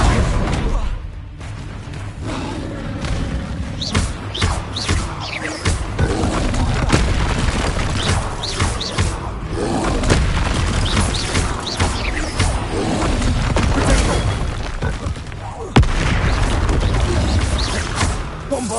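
Bombarda blasting spells exploding again and again in Hogwarts Legacy, a dense run of booms, crashes and clattering debris that stays loud and busy from start to finish.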